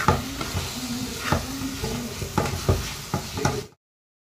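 Pav bhaji masala is stirred and fried in oil, with a soft sizzle under repeated scraping thuds of a spoon against the pan, roughly every half second, before an abrupt stop.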